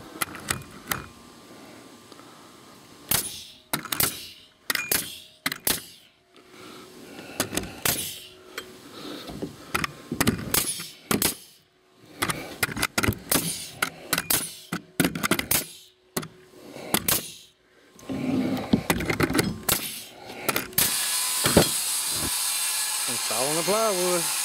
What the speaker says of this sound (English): Installing the plywood.